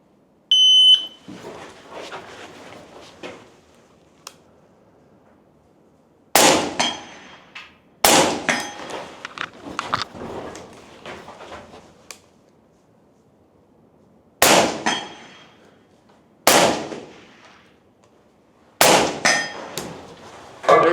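Rifle rounds fired in pairs at steel targets on a range, each sharp report followed by a ringing metallic clang, several loud separated pairs spaced across the stretch with quiet gaps between.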